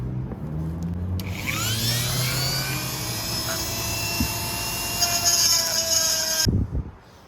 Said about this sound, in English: I'm gonna grind them and then do another coat of filler, and then I'll paint it.